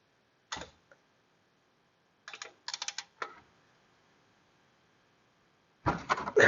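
A pass-through ratchet and socket loosens a bolt in a garage, giving short bursts of sharp ratcheting clicks separated by silence, with a louder clatter at the end.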